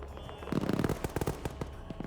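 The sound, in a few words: gunshots in a video game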